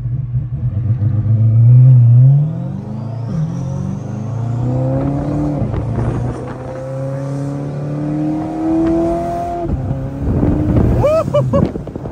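A 1400-horsepower C8 Corvette runs close by, its engine rising in pitch as it accelerates and revs through the gears, loud and continuous with wind rumble on the microphone.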